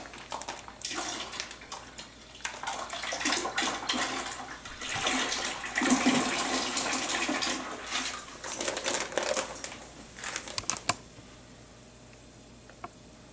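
Water pours into a container in a steady, gurgling stream for several seconds, then stops, leaving a quiet room, during home winemaking.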